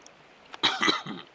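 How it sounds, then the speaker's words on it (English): A single harsh, raspy smoker's cough burst with a couple of rough follow-up hacks, close and fairly loud, no talking. "I'm actually just a smoker and have a smoker's cough, unfortunately."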